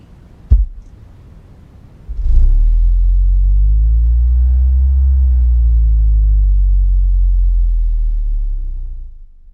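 A Skar SVR 12-inch car subwoofer plays a low bass sweep, a deep swelling rumble that rises and falls for about seven seconds. A thump comes before it.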